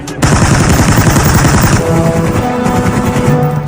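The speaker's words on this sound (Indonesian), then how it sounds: "melakukan penyerangan dengan menembaki satu persatu tentara musuh dari atas bukit persembunyian mereka" Rapid, loud machine-gun bursts from soldiers firing down from a hilltop in a war film, a continuous close fusillade of overlapping shots with a sustained roar underneath.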